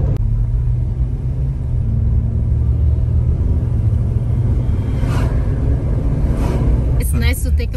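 A car cruises on a road toward Mount Beauty in Victoria, Australia, with a steady low rumble of engine and tyres filling the cabin, a few faint voices rising briefly near the end.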